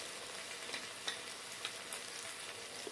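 Tomatoes and chili powder frying in a pan for palak dal, a soft continuous sizzle with faint scattered pops and light stirring clicks, close and quiet with no voices.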